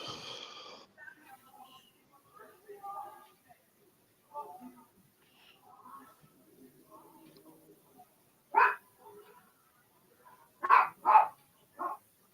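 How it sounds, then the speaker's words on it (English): Muffled talk gives way to a few sharp, loud dog barks near the end, two coming in quick succession. "Yep, there goes the dog"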